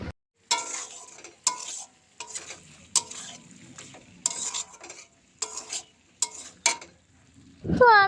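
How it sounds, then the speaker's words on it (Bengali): Meat being fried down in a pan and stirred, with repeated sharp scraping strokes of a spatula over a steady sizzle, then a brief high squeak at the end. "দেখো এইদিকে কিন্তু মাংসটা আমি কষিয়ে নিচ্ছি।"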